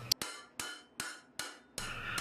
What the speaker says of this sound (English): I start the process by just hammering the sheet metal cold over the chain link